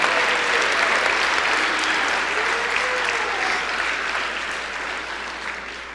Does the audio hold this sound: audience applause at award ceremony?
yes